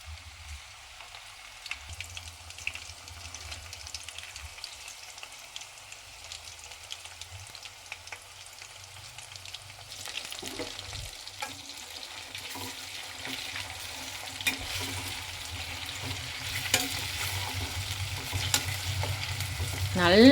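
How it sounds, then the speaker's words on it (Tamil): Prawn pakoda fries in hot oil with a continuous crackling sizzle that grows busier and louder toward the end, with stirring and a faint watery background. "இப்போ நம்ம இறால் பக்கோடாவை போட்டு அப்படியே பொரித்து எடுத்துடலாம்."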